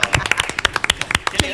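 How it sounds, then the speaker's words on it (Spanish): Studio audience claps for a guest entering a talk show, a quick burst of loud, close, sharp handclaps. "Fuerte el aplauso"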